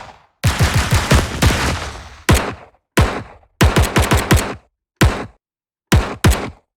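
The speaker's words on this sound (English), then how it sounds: "you've got both kind of like gunshots and gun mechanics" Designed gunfire from the Keepforest Evolution Devastator Warzone library: loud rapid automatic bursts and single booming shots in separate groups with short silences between, each with a sharp crack and brief tail.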